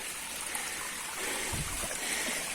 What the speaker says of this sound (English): Got a private little river here.